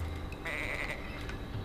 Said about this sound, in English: Yes, that is a sheep.